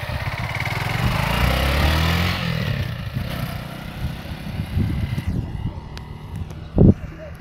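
A Honda Crosser 150 motorcycle engine revving and pulling away on a bumpy road, a mid-pitched motor rising then fading, with people talking over it and a sharp knock near the end.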